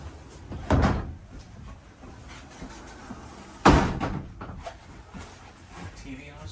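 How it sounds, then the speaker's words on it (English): A barn-style sliding door on an RV bunkhouse rolls and shuts twice with two sharp thuds a few seconds apart, while people talk quietly in between. "Barn door."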